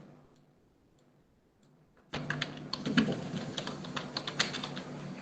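Typing on a computer keyboard begins abruptly after two seconds of near silence, a rapid, uneven stream of close, crisp key clicks that continues to the end.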